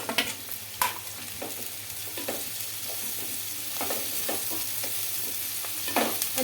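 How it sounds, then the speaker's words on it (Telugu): Long-cut green chillies fry in hot oil in a pan for fish curry, giving a steady close sizzle broken by the scrape and clatter of a stirring spoon at irregular moments. "కొద్దిగా కలర్ వచ్చే వరకు అయితే వేయించుకోవాలండి ఇందులోకి పొడవుగా కట్ చేసుకున్న పచ్చిమిర్చి అయితే వేసుకుంటున్నానండి"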